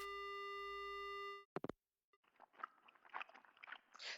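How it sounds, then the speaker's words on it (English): In the horror game Death Mark, a steady dial tone drones for over a second, cuts off with a click, and then wet crunching, chewing and saliva smacking follow in irregular bursts, close and fairly quiet. "Crunching. Smacking. Like the sound of saliva as someone chews."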